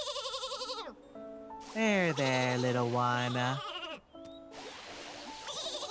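Sheep in the video game Infinity Nikki bleat in several loud, wavering calls, one long drawn-out bleat in the middle, with someone speaking softly between them.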